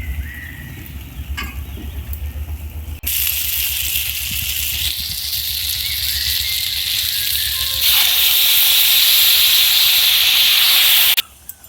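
Fish curry gravy on a village stove bubbles and hisses steadily in the pan with water added, a continuous close sizzle that grows louder and brighter partway through before cutting off.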